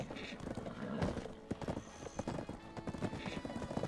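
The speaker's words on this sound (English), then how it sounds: "And let's get on the horse." Horse hooves clip-clop steadily in the video game Black Desert as a rider mounts up in a busy town, a close rhythmic trotting with a brief neigh over background game ambience.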